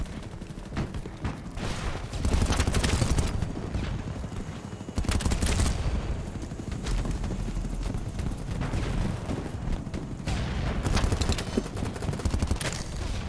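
Sustained bursts of automatic gunfire in a first-person shooter video game, loud and close, with rapid overlapping shots and booming impacts filling the whole stretch.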